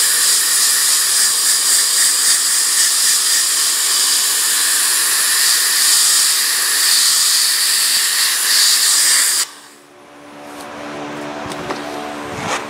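A homemade shop sandblaster running on compressed air at about 50 psi blasts an alternator bracket, a loud, steady, close hiss for about nine seconds that then cuts off abruptly, leaving quieter background sounds.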